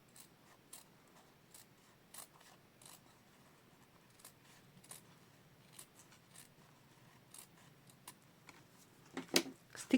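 Paper card being cut with household scissors, not fabric shears, to make a pocket from reused cards: soft, irregular snips and rasps recur every second or so, quiet and close, with a sharper cluster of cuts near the end.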